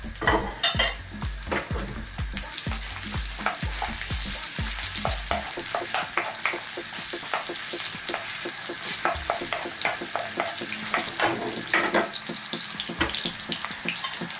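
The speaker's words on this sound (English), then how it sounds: "I'm simply going to drop in a little bit of sliced garlic and onion." Sliced garlic and onion frying in oil for Chinese sweet and sour pork, a steady close sizzle with scraping stirs and clatter of a utensil early on, continuing alone without voices.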